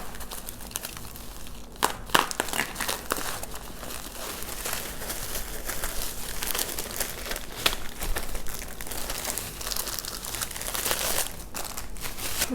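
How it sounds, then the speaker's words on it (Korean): A large parcel box of nail supplies is torn open up close, giving a steady run of crinkling, crackling cardboard and packaging sounds with a few sharper rips, and no one talking. "이제 이 왕박스도 한번 뜯어볼게요."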